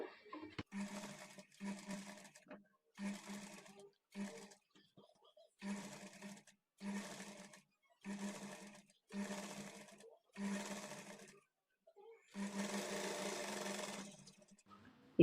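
A sewing machine stitches a blouse sleeve at a half-inch margin, running in about ten steady bursts separated by short pauses, close and clear, with the last burst longest.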